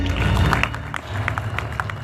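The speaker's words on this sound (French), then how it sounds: "S'il vous plaît, applaudissez très fort Mariam." An audience applauds Mariam at a live show; steady crowd clapping runs through the whole stretch over a low humming backdrop, with a few sharper individual claps standing out.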